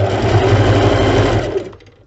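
Sewing machine stitching two parallel rope cords together for a round rope basket: a fast, steady mechanical whirring clatter, close and loud, running for over a second before slowing to a stop.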